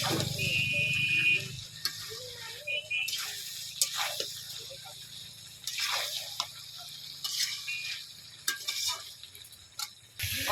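Free-range country chicken curry sizzles and is stirred in a pan as fried new potatoes go in, with a steady frying hiss, scraping stir strokes and occasional clinks running through the whole stretch without talk.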